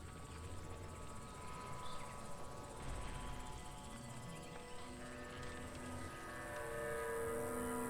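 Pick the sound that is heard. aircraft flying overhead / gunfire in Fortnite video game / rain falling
aircraft flying overhead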